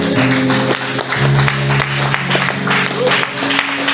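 Congregation at a church service applauding and cheering loudly, with sustained clapping and crowd noise over music throughout, voices mixed in.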